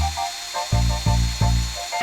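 Power drill bores pocket screw holes into wood for a mid-century modern cabinet frame, with four or five short, loud whirring bursts in a quick, regular rhythm, close by.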